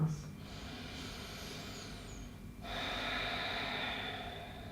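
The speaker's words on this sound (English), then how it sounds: "Let's begin to take some deep inhales and exhales." Deep inhales and exhales during a yoga session are heard as a long, close, airy breath that turns into a steadier rushing exhale.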